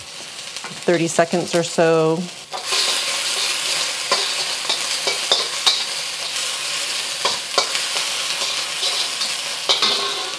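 The white parts of green onions fry in oil in a wok, with a continuous close sizzle and repeated spatula scrapes and clinks as they are stirred, after a brief stretch of someone speaking at the start.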